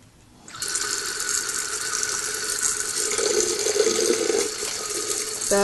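A tap turns on and water runs steadily into a sink, a constant close hiss and splash that continues to the end.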